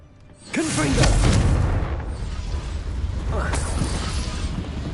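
Confringo fire-blast spell cast in the Hogwarts Legacy video game on PS5, a loud booming burst with a whooshing rush that rolls on as a sustained roar, with a second surge a few seconds later.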